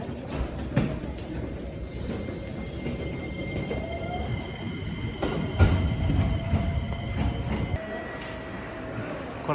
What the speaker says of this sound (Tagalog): Bago talaga tong train.